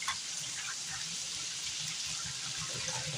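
Tap water runs steadily into a bowl as vegetables for a Filipino mung bean dish are rinsed, a soft continuous splashing hiss, close but quiet, with faint talk underneath.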